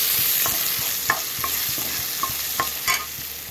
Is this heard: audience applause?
no